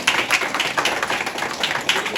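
Audience applause for the founder and chairperson of an organisation at a stage event: dense, steady clapping from many hands, fairly loud and continuous throughout with no voices over it.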